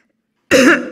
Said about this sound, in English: just let me clear my throat